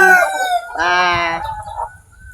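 Rooster crowing loudly up close at a backyard poultry farm, one long harmonic crow followed by shorter clucks from chickens nearby, then fading.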